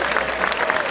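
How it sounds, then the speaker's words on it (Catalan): Applause from a festival audience for the Xaloc de Salou, a bestiary dance troupe, a dense steady wash of clapping that stays even through a brief one-second burst. "fort de l'aplaudiment pel Xaloc de Salou."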